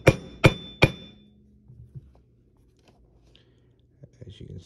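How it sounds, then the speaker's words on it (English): Parts of a Taurus TH9 pistol are hammered into place during reassembly. Three sharp metallic hammer blows come in quick succession, followed by quieter handling clicks and taps, close and otherwise quiet. "As you hammer down, everything should fall in place"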